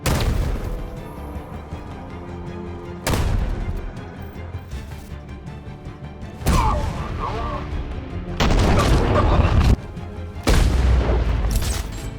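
Booming gunfire in Batman: Arkham Knight arrives as a handful of loud, separate blasts spaced a second or two apart over a steady game rumble, with occasional voices.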